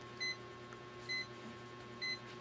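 A digital multimeter in buzzer mode while testing capacitors on a board, giving three short, evenly spaced high beeps over a faint steady hum, quiet and alone.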